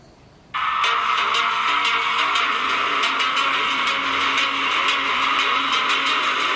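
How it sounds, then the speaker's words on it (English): Racing game sounds from Riptide GP2, a water racing video game played at max settings on a Xiaomi Mi A1 smartphone: a loud, steady engine-like roar that starts abruptly after half a second and holds with no talk. "So I'm going to play Riptide GP2."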